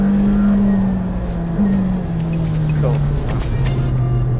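A 2018 McLaren Senna sports car drives hard on a test run, its engine a loud, steady droning hum from inside the car that shifts pitch with gear changes. A person speaks briefly over it.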